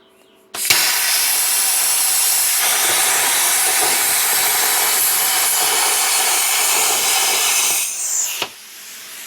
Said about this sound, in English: We're gonna plasma it out with our nifty prime weld plasma cutter.